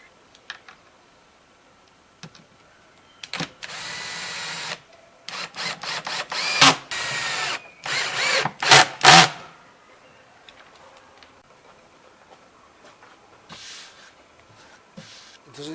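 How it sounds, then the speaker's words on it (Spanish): Power drill boring holes into wooden drawers: a series of short, loud whirring bursts of varying length, clustered together and close, with quiet clicks and handling noises before and after. "voy a hacer 4 agujeros a cada cajón para así comenzar a instalar las tapas"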